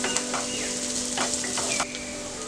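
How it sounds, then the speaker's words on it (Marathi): White parts of chopped onion sauté in a pan over a full gas flame for egg fried rice, with a steady soft sizzle, a low hum and a few brief scraping stirs. "कांद्याचा सफेद भाग, फुल गॅस करायचा आहे। सगळं फुल गॅसवरच आपल्याला परतून घ्यायचं आहे।"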